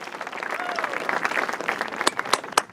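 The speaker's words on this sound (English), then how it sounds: "Please join me in congratulating IPR's March and June" Applause for graduates at a commencement ceremony, dense ongoing clapping with a few sharp individual claps near the end.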